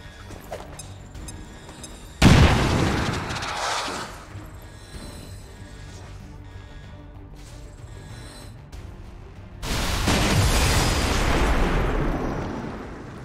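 Explosions in the XCOM video game: two heavy booming blasts, each followed by a long rumbling tail, with quieter game sounds in between.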